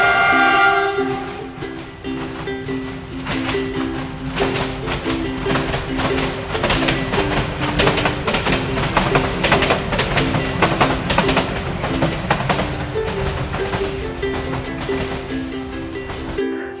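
Train noise inside Kamalapur railway station in Dhaka, a steady loud rumble of rolling stock with a sustained horn-like tonal layer running throughout, no talk.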